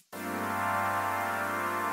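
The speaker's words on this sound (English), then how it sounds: "So this pad, it's a Harmer patch." A synthesizer pad from a Harmor patch running in Ableton enters after a brief silence and holds one rich, sustained chord, soft and even, with a slight vibrato.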